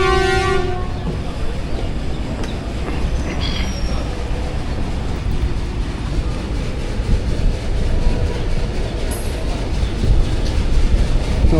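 13 UP Awam Express pulling out of Sanjani railway station, opening with a brief loud horn blast, then a steady rumble of rolling wheels and carriage noise that continues, nearby and constant.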